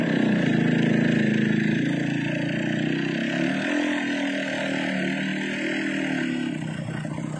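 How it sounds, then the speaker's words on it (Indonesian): A motorcycle engine runs at a steady idle, a continuous low buzzing drone with a slight drop in pitch midway. "Udah lama ini kagak ngetes nih motor."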